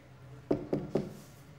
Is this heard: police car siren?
no